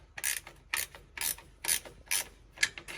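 A ratchet wrench turns bolts on a brake chamber clamp on an Eagle bus, giving six short bursts of rapid clicking in a steady rhythm, close and clear, with no talk.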